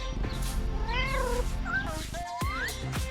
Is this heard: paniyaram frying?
no